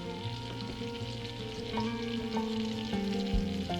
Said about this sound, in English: We're melting a stick of butter in a frying pan